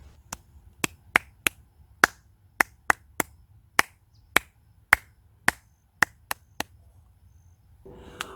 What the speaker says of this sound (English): Now let's clap it together.